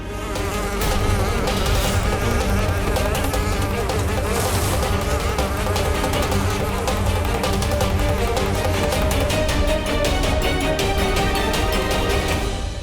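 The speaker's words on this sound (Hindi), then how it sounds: "मधुमक्खी।" A swarm of bees drones loudly and continuously, a thick, close buzzing that fills the scene from start to finish without speech.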